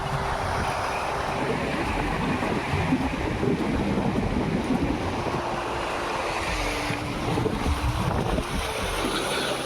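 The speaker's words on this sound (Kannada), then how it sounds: "ಕೆರೆಗಳ ಶಬ್ದ" Sea waves wash steadily below St. Angelo's Fort in Kannur, Kerala: a continuous broad roar of surf with gusts of wind buffeting the microphone and no voices.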